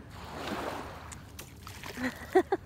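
A thrown stone splashing into shallow seaweed-filled water, a soft splash and slosh early on, followed by brief voices talking nearby.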